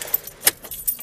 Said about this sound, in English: The first thing we're going to do, though, is going to make sure the keys are out of the ignition.